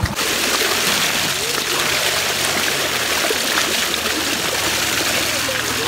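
Water splashing continuously while someone bathes under a tubewell's outflow on a hot summer day, a loud, steady gushing and splattering rush close by.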